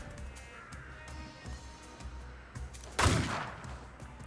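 Gunfire in the video game The Thaumaturge: a few muffled shots over a low background, then one loud, sharp burst near the end.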